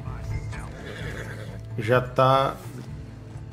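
A horse neighs loudly and close in the video game Red Dead Redemption 2, a rising whinny after a few soft hoof sounds, with someone speaking briefly beforehand.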